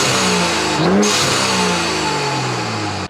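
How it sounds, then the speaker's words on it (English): A BMW N55 inline-six's induction roars up in one sharp rev near the start and then settles into a steady, loud, close engine drone with an intake whoosh and no speech. "You've got to hear the induction on this car as well. It also sounds insane."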